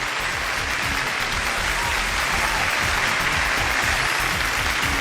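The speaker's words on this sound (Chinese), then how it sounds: "掌声有请这一对" A studio audience at a Chinese relationship TV show applauds to welcome a couple onto the stage. The clapping is loud and continuous and holds evenly from start to finish, with no talk over it.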